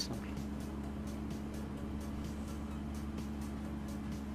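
A van drives along in Farming Simulator 2015, its engine giving a steady low droning hum at constant pace, quiet and unbroken with no talk.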